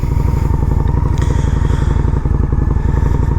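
A Honda Shadow 750 motorcycle rumbles along on a ride, its engine giving a loud, close, steady throbbing pulse with some clatter and no talk.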